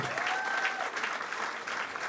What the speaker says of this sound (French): on peut aussi applaudir les libraires du Passeur de Lille et en général tous les libraires